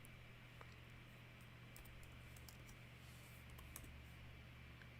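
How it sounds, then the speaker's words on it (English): Steady keyboard typing on a computer keyboard while animatics are worked on, soft scattered key clicks sitting faintly under a constant low hum and background music. "I don't know if y'all can probably hear my key typing."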